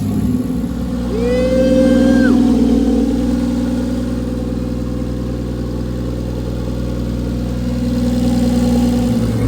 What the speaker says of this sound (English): the car is running behind me